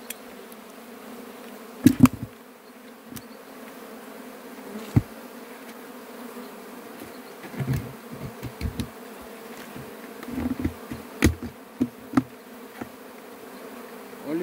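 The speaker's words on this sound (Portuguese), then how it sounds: "tá indo as abelhas" Honey bees swarm around a wooden log stump close to a house, a steady buzzing hum with louder bursts as individual bees fly near, no talking.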